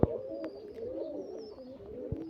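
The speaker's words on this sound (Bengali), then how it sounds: "এই আর একটা কালো সবুজ কবুতর" Rajshahi giribaz and Pakistani pigeons coo softly nearby, a low wavering burbling call running continuously with a couple of brief knocks at the start and end.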